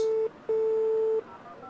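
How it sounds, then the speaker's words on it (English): Electronic telephone tones from the puzzle adventure game Gray Matter: two steady beeps, a short one followed by a longer held tone, clear and alone with no talking. "So I think we need to phone Judas"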